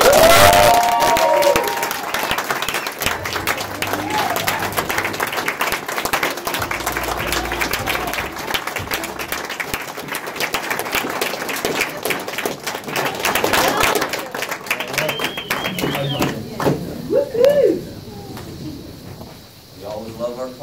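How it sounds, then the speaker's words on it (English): Audience applause for Brittany at a Saturday training event, a sustained wash of clapping and crowd noise lasting most of the stretch, with some voices mixed in and cheering swelling near the end. "If you can help me give her a round of applause."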